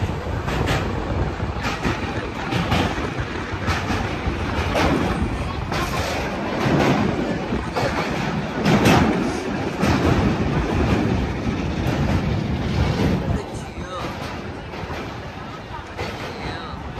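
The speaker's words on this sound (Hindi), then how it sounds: "ये धौली एक्सप्रेस है" The Dhauli Express runs on its rails in India, a loud continuous rumble with rhythmic clatter heard from inside the moving train, with voices talking over it.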